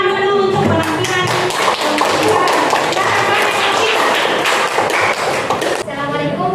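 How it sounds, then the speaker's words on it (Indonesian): A classroom group claps for a group presentation during a school academic coaching session. The applause is dense and sustained, close and loud, with voices mixed in. "ini tepuk tangan dulu untuk penampilan"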